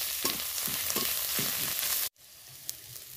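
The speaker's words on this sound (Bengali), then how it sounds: "ভালো করে এই সবগুলো উপকরণ" Ginger paste, turmeric and red chili powder fry in oil for bottle gourd dal. A close, steady sizzle carries rhythmic stirring scrapes, then cuts off abruptly and continues as a quieter sizzle.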